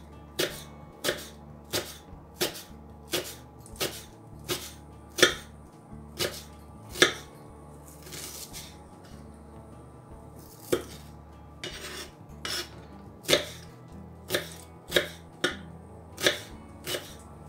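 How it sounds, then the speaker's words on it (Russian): Knife chopping onion into quarter rings on a cutting board, about twenty crisp close strikes at a steady rhythm with brief pauses, no talking. "Лук нарезаю четверть кольцами."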